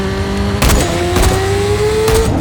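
A car accelerating hard during a chase scene in a Mission Impossible film, the engine note climbing steadily, loud and close, with a few bursts of impact-like noise.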